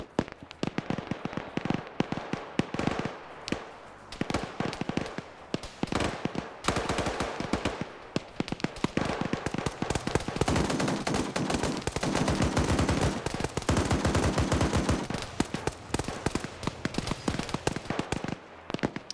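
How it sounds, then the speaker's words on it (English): Mortar fire in a military shooter video game, heard as dense, rapid bursts of sharp explosive cracks and gunfire-like blasts that run almost nonstop and loud, with brief gaps, thickest and heaviest in the second half. "Repeat the fire mission, have them think that they're, you know, further back, so now the mortar's gonna be landing behind them."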